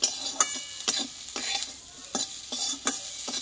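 Eggplant and onion sizzle in a hot pan while a spoon stirs them in steady, regular strokes, each scrape rising clearly above the constant frying hiss.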